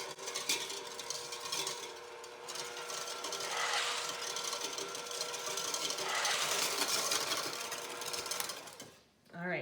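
An electric mixer whips egg whites for raspberries and cream macaron meringue, giving a steady loud whirring drone with slight swells in pitch throughout.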